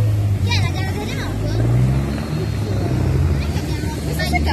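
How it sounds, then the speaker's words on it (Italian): A helicopter hovers over a crowd at a professional road cycling race, the Giro di Lombardia in Italy, its low pulsing rotor drone continuous beneath excited spectators' chatter and shouts. "Eccolo l'elicottero!"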